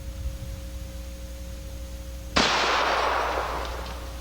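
A rifle fires a 110 grain soft nose bullet at a water bottle outdoors: one loud, sharp shot breaks a low steady hum, and its crack trails off into a fading echo, with no talking over it.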